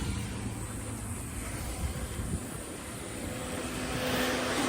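Car engine revving to a steady moderate RPM during a home oil change, a continuous droning rumble that holds for several seconds and swells slightly toward the end, with no talk.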